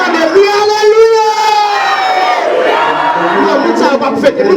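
A church congregation shouts Alleluia together, a loud crowd of voices rising in a sustained, wavering cry that swells and trails off under continued group shouting.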